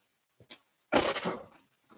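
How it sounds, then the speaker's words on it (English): A single loud, breathy nose blow lasting about half a second, close up, preceded by a couple of faint sniffs and followed by quiet. "Hold this thought because I got to blow my nose."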